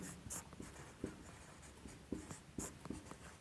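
Chalk scratches across a board during a chemistry lesson in quick, irregular strokes and taps, close and fairly quiet, with short bursts of scraping and no voices.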